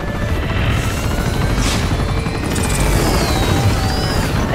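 A helicopter roars in the action video game Uncharted 2: Among Thieves, a loud sustained rotor drone mixed with rumbling bursts and crashes of combat, with no voices over it.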